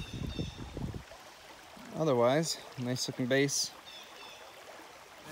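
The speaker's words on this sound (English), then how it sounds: "Not sure if you can hear me over the roar of this waterfall" A waterfall in eastern Kentucky gives a steady, moderate rushing wash of water throughout, with someone talking over it in the middle.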